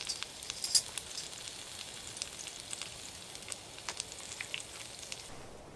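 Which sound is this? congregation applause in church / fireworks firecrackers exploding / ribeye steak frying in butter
ribeye steak frying in butter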